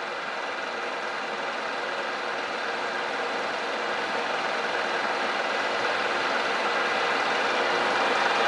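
A Cincinnati Bickford radial drill with a boxway table feeds its spindle, producing a steady, even mechanical hum and broadband whir that holds constant throughout with no pauses.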